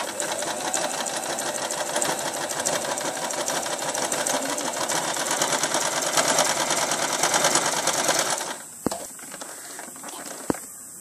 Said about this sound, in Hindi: अब हम सिलना शुरू करते हैं।